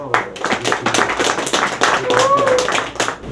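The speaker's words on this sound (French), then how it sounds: "Je vais vous demander d'applaudir très fort." An audience at a fifth-anniversary evening gathering claps in a close, irregular burst of hand claps, with a voice talking over them throughout.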